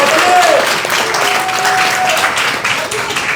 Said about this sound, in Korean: 우선 격려의 박수 크게 한번 부탁드립니다